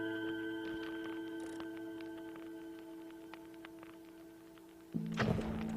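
In the Box Battle iPad game, a bomb goes off as a sudden noisy burst near the end, breaking into a steady electronic hum and soft taps.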